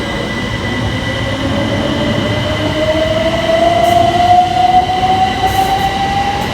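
A C2C passenger train passes on the Great Eastern Main Line, a loud continuous rail roar with a rising whine from the traction motors, close by and steady with no voices.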